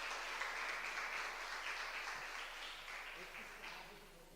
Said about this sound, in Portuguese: receba com bastante aplauso para a glorificação do nome do Senhor, Betânia Borges